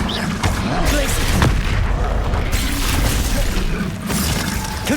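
Glacius freezing spell cast in Hogwarts Legacy, a loud booming, shattering icy burst with crackling debris, dense and continuous with other spell effects layered throughout.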